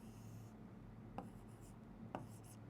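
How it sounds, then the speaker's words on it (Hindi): Pen or chalk writing out maths working, a faint steady scratch under room hum with two light taps as strokes land, no voices. "तो यहाँ पे हम लिखेंगे"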